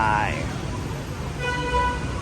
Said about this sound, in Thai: ก็จะนอนฟังเสียงแตรกันไป